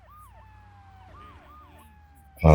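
A wailing police siren in GTA 3 Definitive Edition rises and falls repeatedly over a low engine hum, ending in a sudden loud burst of noise.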